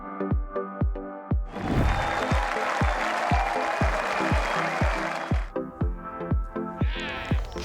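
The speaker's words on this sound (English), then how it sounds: "You see Aria there clapping her" A golfer claps on a golf course, with sharp rhythmic claps throughout and a burst of broader applause-like noise in the middle, close and fairly loud.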